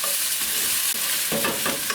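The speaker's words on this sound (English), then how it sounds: "you would be impressed with this sizzle, I think." Meat sizzles loudly in a hot pan inside a campervan, a constant crackling hiss with a few brief scraping sounds of stirring.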